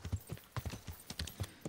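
Horse hooves clip-clopping in the medieval game Kingdom Come: Deliverance, a soft, steady rhythmic trot of repeated hoof strikes, faint and close, with no talk.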